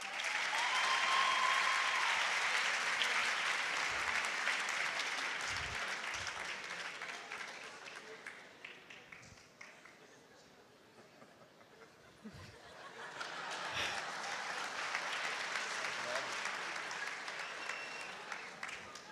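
An audience at a campus radio award ceremony claps loudly, the applause fading to near quiet midway before a second sustained round of clapping builds up again, with a few scattered laughs.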